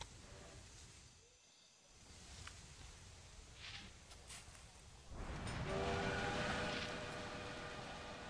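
A train pulling out of a station in the Railway Empire game set in 1863 Sierra Nevada, with a faint rolling rumble, a couple of brief whistle toots, then a louder, sustained whistle and rail noise.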